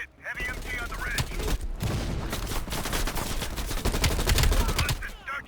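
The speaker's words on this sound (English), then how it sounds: "Heavy MG on the ridge." A heavy machine gun fires from a ridge in a Call of Duty Cold War battle, a loud sustained stream of rapid rattling shots with other gunfire around it and voices heard briefly.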